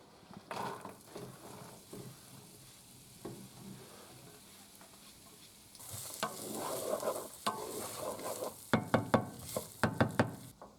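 Vegetables hit hot olive oil in a pan for a Bolognese, starting as a soft, faint sizzle with scattered clinks, then swelling into louder frying with sharp stirring knocks toward the end.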